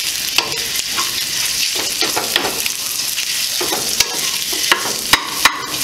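Italian sausage frying over medium heat and broken up with a wooden spoon, a loud continuous sizzle close by, punctuated by repeated scraping strokes and sharp spoon taps against the pan.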